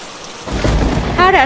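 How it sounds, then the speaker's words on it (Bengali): Heavy rain with thunder, a dense roaring downpour with a low rumble swelling in, joined briefly by a high voice-like tonal sound near the end. "উফ, আবারও জোরে বৃষ্টি নামলো।"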